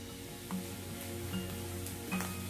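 Onion sautéing in a pan for cashew paneer masala gives a soft, steady sizzle, with a few faint stirring clinks at intervals and no voices.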